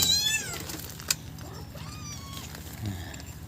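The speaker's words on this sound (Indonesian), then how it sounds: "Halo kucing-kucing, para meong. Sarapan kita nasi goreng." Several cats meow near the microphone while being given a breakfast of fried rice, with a clear rising meow at the start and softer cries after, against a quiet background.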